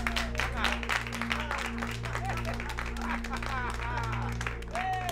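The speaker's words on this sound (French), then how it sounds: "Applaudissez, applaudissez." A crowd applauds steadily and densely at a celebration in a drama series, while voices talk over the clapping and a low tonal hum sustains beneath it throughout.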